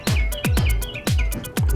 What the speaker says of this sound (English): you hear the birds outside. I got my window open.